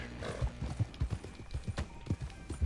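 Horse hooves clip-clop in a steady, trotting rhythm in the Red Dead Online western game, the close, thudding beats repeating evenly with no talk over them.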